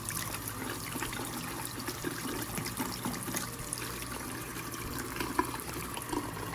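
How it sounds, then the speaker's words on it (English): Hot water runs from a household tap in a steady, even rush that stays at a moderate level throughout. "I will let the hot water run just a couple of seconds"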